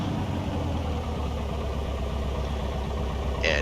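A Piper Cherokee light aircraft engine idles with a steady, throbbing low drone and a regular pulsing beat, close and continuous, with a brief higher-pitched click near the end.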